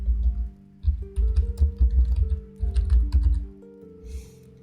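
Typing on a computer keyboard while writing C++ code, bursts of fast, close key clicks separated by brief pauses, loud and distinct with no voice over them.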